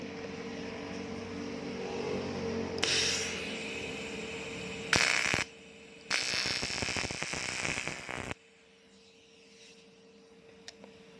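Argon TIG welding on an aluminium cylinder block, several bursts of buzzing, crackling arc noise lasting a second to a few seconds each, separated by quieter pauses, heard close.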